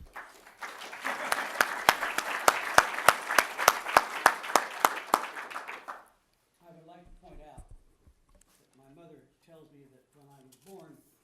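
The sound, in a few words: audience applause welcoming speaker Jack Davis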